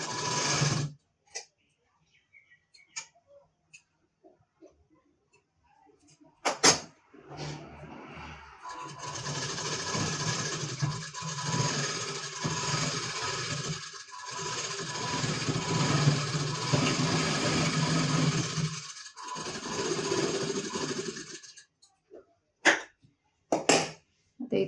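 A sewing machine stitches lace onto a blouse, running in a steady whir for roughly twelve seconds with brief dips, framed by a few sharp clicks and handling knocks before and after.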